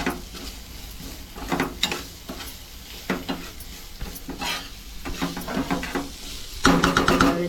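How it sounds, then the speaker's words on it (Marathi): A spoon stirs a Maharashtrian tempering in oil in a pan for matki usal, giving soft scraping strokes every second or so over a low steady sizzle, with a brighter clatter near the end. "काही ढवळून घेते सगळं. जरा वेळ तेल सुटू दे फोडणीला."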